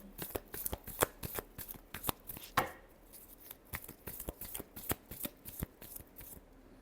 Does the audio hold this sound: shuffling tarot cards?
yes